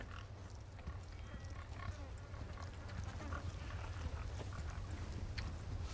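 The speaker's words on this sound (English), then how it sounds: "Piggies." Pigs grunting and oinking in the Resident Evil 4 Remake video game, several short snorts scattered over a steady low rumbling ambience, moderately close and continuous.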